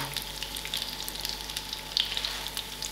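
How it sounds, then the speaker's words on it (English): Mackerel fish cakes made with egg fry in hot oil, giving a steady, close crackling sizzle with small pops and bubbling throughout. "because we use eggs, the oil usually bubble up"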